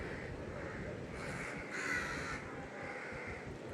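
Crows cawing on a rainy street in Cuddalore, a few loud caws over steady rain patter.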